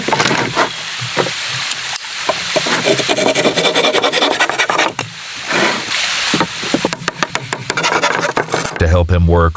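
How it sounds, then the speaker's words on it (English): A handsaw trims wooden planks on a cabin build, giving close, repeated rasping strokes in an uneven rhythm with brief pauses, loud and dominant throughout. "He used his handsaw to trim any planks that were sticking out too far"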